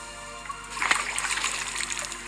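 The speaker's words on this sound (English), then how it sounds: "I bend down and splash the spring water at him." Spring water splashed by hand, a single quick splash that swells and trickles off over about a second and a half, close and fairly soft against a steady background hum.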